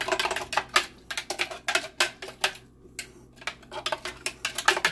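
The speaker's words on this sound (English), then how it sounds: "I'm going to start out with a tablespoon of sugar, and we're just going to give it a stir" A spoon stirs sugar into a glass of fresh-squeezed California orange juice, giving a quick run of close, bright clinks and taps with brief pauses between bursts.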